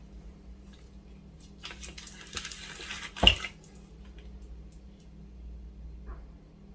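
Liquid resin poured into a pyramid mould, a soft continuous trickle under a low background hum, swelling for a moment into a brief thicker splash before easing back, with no talking.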